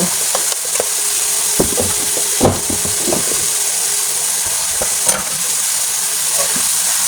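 Sautéed onions and tomatoes, seasoned with chili powder for a tomato-onion egg dish, sizzle loudly in a pan while a spoon knocks and scrapes through them in irregular close strokes.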